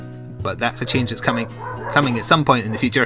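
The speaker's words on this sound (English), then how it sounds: "Hopefully that's just a dog barking randomly and not me having to answer the door." A dog barks in short yips and woofs somewhere in the house, fairly faint and partly buried under a person speaking steadily throughout.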